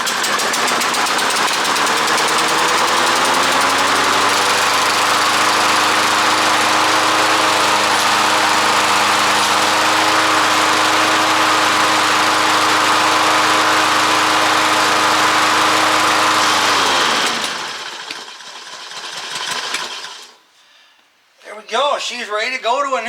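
A revived push lawn mower engine runs loud and close at a steady idle, then sputters and dies, followed by a short burst of talk.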